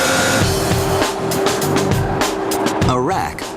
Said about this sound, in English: We asked them to run the machine without coolant for a minute, so we could see how it shapes and stretches the metal